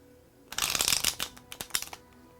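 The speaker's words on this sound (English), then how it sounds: "if we release it just the right amount, you see the cards shuffle." A quick, crisp riffle shuffle of playing cards fluttering together, followed by a few light taps as the deck settles.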